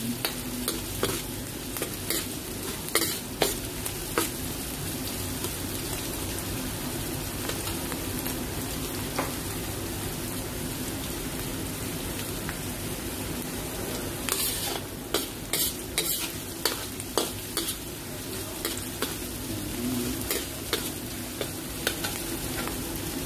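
Minced food stirred and frying in a pan for carbonara, a steady close sizzle with scraping utensil strokes and clicks scattered throughout, no voices.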